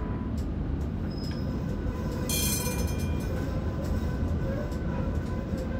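A tram rolls along its line in a tram simulator, giving a steady, loud rumble of wheels on rail with faint squeals and a brief bright screech near the middle.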